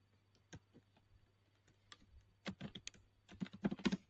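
Fingers type a message on a computer keyboard during a software test scenario, the keys clicking faint and sparse at first, then quickening into denser bursts of clatter near the end, with no talk.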